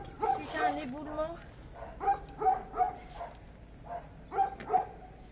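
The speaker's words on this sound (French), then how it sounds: "Oh, puis les chiens qui gueulent." Dogs bark and yip in short repeated bursts a little way off, while a person talks nearby.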